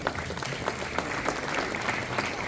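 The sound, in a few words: audience applause at award ceremony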